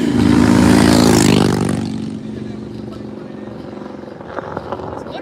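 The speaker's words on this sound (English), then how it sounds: "It's a motorcycle." A motorcycle roars past close by during a charity bike ride, loud at first and then fading quickly as it moves away, with wind noise and a few voices afterward.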